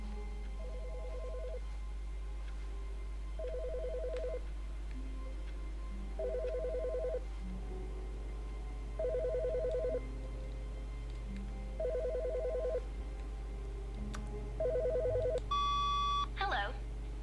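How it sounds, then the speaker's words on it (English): Telephone ringing in the video game The Stanley Parable, a six-ring series of trilling bursts at an even pace over a low ambient hum, ending with a brief electronic pickup blip. "I hear a phone."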